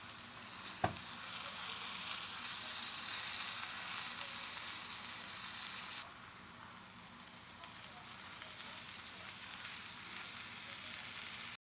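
Cheesy parmesan eggs and squash sizzle steadily in a frying pan, a broad continuous crackle with a sharp clack of stirring near the start and a slight drop in intensity midway through.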